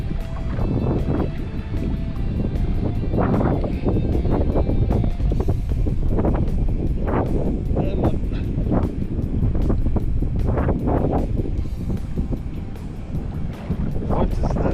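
Wind buffets the microphone at sea off KZN, South Africa, during kayak fishing for yellowfin tuna, a loud, constant gusting roar with splashy surges throughout and no talk.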